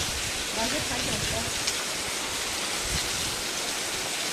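A waterfall pours as a constant broadband rushing roar, steady and fairly near, with a voice talking faintly beneath the water noise.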